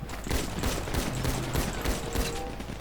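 Rapid gunfire from a shotgun and machine gun in GTA V, a dense, continuous run of loud shots with sharp bursts spread across the whole stretch and no talking.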